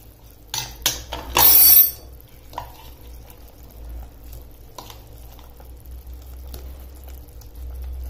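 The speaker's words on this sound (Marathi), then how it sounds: "सर्व आलू यात घालून द्यायचे" Fried potatoes tipped into simmering yogurt gravy in a pot for Kashmiri dum aloo, a few clattering splashes and knocks up front, then quiet bubbling and stirring.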